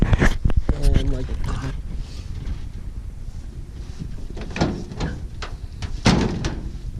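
The door of a 1965 International Harvester Scout, hung a few inches out of line and reluctant to latch, thumps and clunks a few times close to the microphone, with windy outdoor rumble and muffled voices around it.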